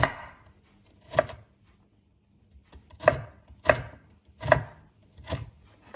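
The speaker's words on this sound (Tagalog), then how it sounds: "Tapos i-slice siya ng halos maliliit na cubes." Knife cutting potato into small cubes on a board, six sharp, close chops arriving in an uneven rhythm with quiet gaps between them, and no voices.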